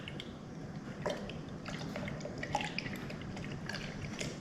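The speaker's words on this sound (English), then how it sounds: "And then I'm gonna give it a little stir." An OXO jar scraper spatula stirs room-temperature water into a sourdough starter in a jar, producing quiet, wet squishing clicks and drips at an irregular pace.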